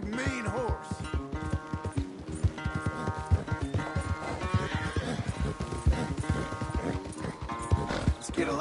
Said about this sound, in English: Where's that big, mean horse?